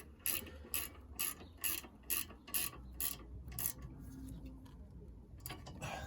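Ratchet wrench tightening the rear wheel bearing carrier bolts on a 2010 VW Golf Mk6 GTD, a run of about ten crisp, evenly spaced clicks close up, then quieter rubbing and handling noise.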